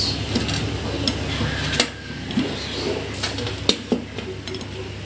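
Pieces of fried fish are lifted from a pan and set on a plate, with a few sharp clinks and scrapes of utensil on metal over a faint background sizzle.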